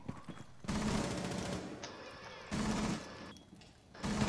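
Video game gunfire in bursts of rapid automatic shots, three loud volleys separated by short gaps, with faint voices in the background.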